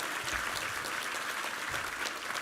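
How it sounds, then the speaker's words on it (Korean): Church congregation applauding during a Sunday worship service, a steady dense wash of clapping held at even loudness throughout, with no voices over it. "우리 하나님께 감사와 영광의 박수 올려드리겠습니다"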